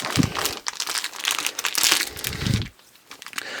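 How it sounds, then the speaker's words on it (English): A flimsy plastic knife sawing and piercing through plastic toy packaging, loud close crinkling and crackling in bursts, then a brief pause before more rustling. "So I'm supposed to just be able to cut this with this flimsy plastic knife"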